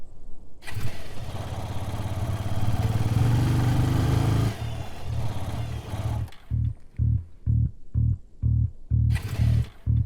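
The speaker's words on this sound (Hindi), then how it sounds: "पेट्रोल तो है, फिर भी बाइक बंद हो गई" A motorbike engine cranks and runs roughly for several seconds, cuts out, then sputters in a series of short rhythmic bursts as it repeatedly fails to catch, close and fairly loud.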